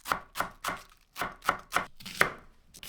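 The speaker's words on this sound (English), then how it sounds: "slice 5 ounces of button mushrooms and 4 green cabbage leaves" Knife slicing button mushrooms and green cabbage leaves on a cutting board, about nine crisp, evenly spaced chops with a short pause in the middle, close and clear with no talking.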